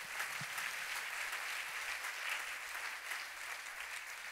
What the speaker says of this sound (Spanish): Denle una ofrenda de palmas fuerte a nuestro Dios.